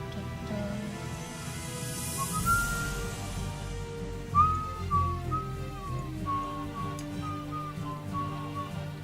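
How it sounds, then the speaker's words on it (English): A person whistles a wandering tune with sustained pitch glides and short notes over a steady low background hum, fairly close and moderately loud throughout. "I should probably stop whistling"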